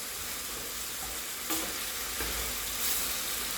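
A fish dish simmers in a pot with a soft, continuous bubbling sizzle, and a couple of brief spoon-against-pot stirs stand out above it.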